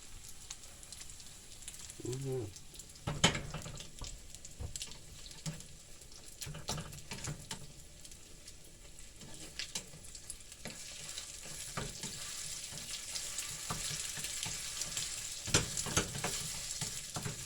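Scrambled dehydrated eggs sizzle quietly in a pan with a soft, steady crackle and patter, plus a few louder clicks and scrapes of stirring, no talking throughout.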